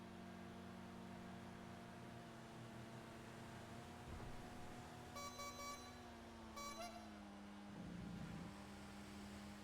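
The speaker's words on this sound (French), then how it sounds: "Ah, ce klaxon de la mort." A vehicle horn sounds in two short bursts near the middle, set against a steady hum of engine and road noise, with a low drone continuing under it throughout.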